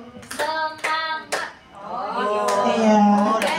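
An audience at a teacher learning-community session claps in a counted pattern, giving sharp hand claps in quick groups: single claps, then a double, then a longer run of claps. A voice speaks between and over the clapping.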